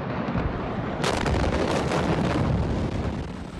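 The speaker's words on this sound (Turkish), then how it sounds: "ardından şiddetli patlamalar" A dense, continuous roar of heavy blasts at Beirut port after a large fire rumbles throughout, with a sharper burst about a second in, loud and unbroken.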